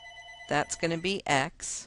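A telephone rings under a man's speech in a math lesson, a trilling electronic tone sounding quietly at first and again at the end between his words.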